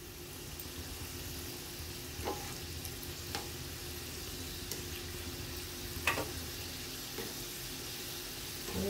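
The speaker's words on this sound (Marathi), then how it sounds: "थोडंसं तेल याच्यावर टाकायचं मोदकावर, म्हणजे वरून पण आपला मोदक तळतोय." Sweet fried modak dumplings cooking in hot oil while oil is spooned over their tops, giving a steady, low background sizzle with a few soft clicks of a slotted spoon against the pan, no voices.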